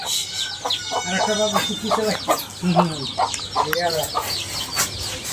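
Native desi chickens cluck in short repeated bursts close by in a rural Bangladeshi home with a clay stove for cooking, the clucks in loose rhythm over a steady background hum.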